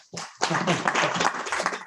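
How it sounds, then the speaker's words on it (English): A short, dense burst of audience applause follows the presenters at a pitching session. Many hands clap loudly and close for about a second and a half. "just one more round of applause for everybody who presented today"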